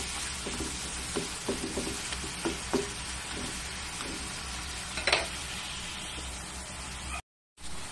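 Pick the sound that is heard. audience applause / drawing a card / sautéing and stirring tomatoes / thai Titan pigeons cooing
sautéing and stirring tomatoes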